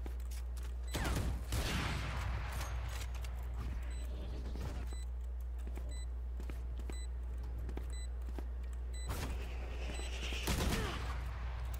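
Video game gunfire crackles in scattered bursts of rapid shots over a constant low hum, with short electronic beeps between volleys.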